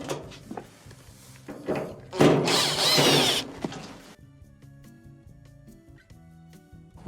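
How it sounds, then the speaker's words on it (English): Power drill backing out Phillips screws from a dryer panel, a couple of short whirring bursts with clicks and clatter, close and moderately loud, followed by quieter handling noises. "Remove the 2 Phillips screws."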